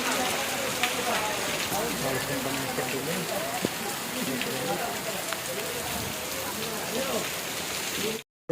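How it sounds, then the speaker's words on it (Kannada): Steady rain pours down close by, a dense continuous patter on a hard surface that holds evenly throughout before cutting off abruptly at the end. "ಮಳೆ ಏಕಟ್ಟು ಮಳೆ ಹೊಂಟದ ನೋಡ್ರಿ"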